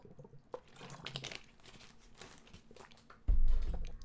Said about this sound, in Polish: Napiję się wody